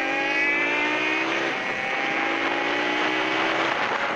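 A Kawasaki ZX25R four-cylinder motorcycle revs loudly on a road during a group ride, its high-pitched engine note rising and falling steadily, heard up close from an accompanying bike.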